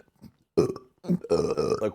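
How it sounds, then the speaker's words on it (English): A deliberate, self-induced burp sounds close and loud, a few short croaks followed by a long, rough, drawn-out belch, with nothing else heard. "there I purposely made myself burp"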